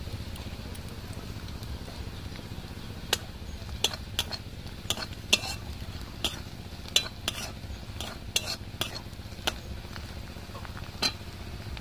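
Steady sizzling of chili, coriander, black pepper and turmeric powders frying in a pan, with repeated sharp scrapes and taps of a utensil against the metal as it is stirred.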